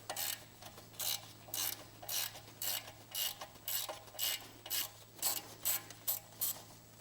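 A ratchet with a 10mm socket unbolts a Porsche 911 991.1 brake line bracket, making a steady run of about fifteen quick clicking strokes, close up and fairly quiet over a low hum.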